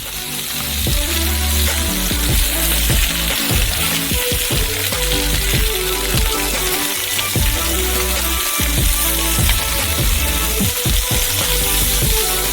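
Meat ribs frying crisply in a hot pan, a dense steady sizzle with crackling pops running loud and close throughout, with no voices over it.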